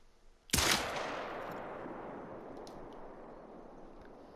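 A single sharp shot from a Glock 10mm pistol during a hunt outdoors cracks loudly, followed by a long, fading echo rolling away over several seconds.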